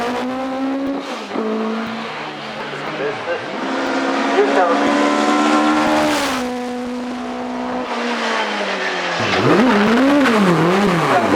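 Pilbeam MP50 hill climb race car at Shelsley Walsh, its loud high-pitched engine screaming up and down through gear changes in one continuous run.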